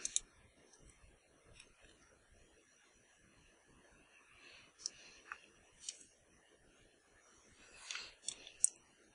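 Sparse, faint mouse clicks on a computer during photo editing with a painting filter, a few isolated clicks at irregular intervals over quiet background.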